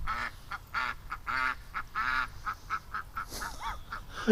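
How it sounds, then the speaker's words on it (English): Several ducks quack close by in a quick, uneven series of nasal calls, with brief gaps between bursts and no talking over them. "We got a bit of a duck rush going down right now."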